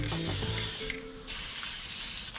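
Fluorescent Rust-Oleum aerosol spray paint hissing onto a dump trailer up close, two bursts of spray separated by a brief pause.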